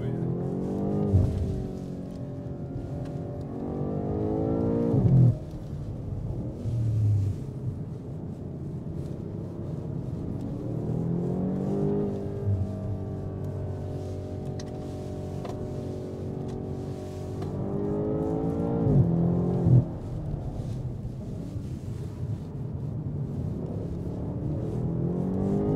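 BMW car at a performance driving track, its engine revving and accelerating in long rising sweeps with gear-change drops, a steady heavy drone heard from inside the cabin.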